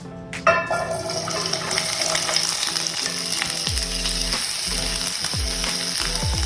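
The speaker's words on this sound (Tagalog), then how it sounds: "mainit na yung mantika, ilagay na natin yung carrots" Carrots hit hot oil with a sudden loud splash, then fry in a strong, dense crackling sizzle. A few low thumps and stirring sounds come through, and nobody talks.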